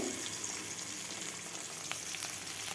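Onions fry in a pan for a Bengali pabda fish curry, giving a soft, continuous sizzle heard quietly and alone, with a few faint crackles near the end.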